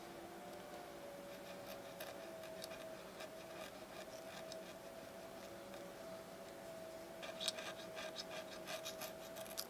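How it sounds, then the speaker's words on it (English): A sharp X-Acto knife trims along cut lines on a 3D-printed AR-15 magazine speed loader, faint scratchy scraping strokes over a steady low machine hum, no talking. "take a good sharp X-Acto knife and follow along the lines here in kind of a cutting motion"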